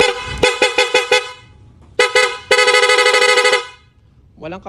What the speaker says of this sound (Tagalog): Pakinggan nyo rin yung tunog ng busina.